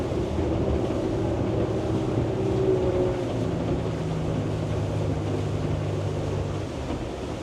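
A Yellowfin YF-70 extended cabin boat slows while still planing at about 2,000 RPM, its engine droning steadily as the hull hisses through water amid wind buffeting, with no voices.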